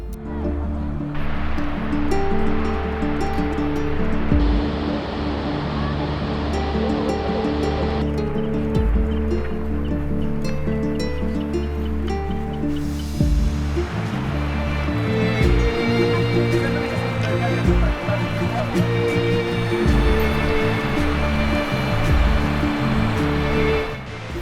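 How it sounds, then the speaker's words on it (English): Skógafoss, one of Iceland's most powerful waterfalls, sends up a loud, steady roar of falling water, a continuous broadband rush that never lets up. "Skógafoss looks incredible. It's one of the most powerful waterfalls in Iceland."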